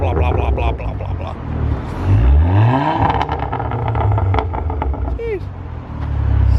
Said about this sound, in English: now it's a full 3-inch Malian exhaust all the way from front to back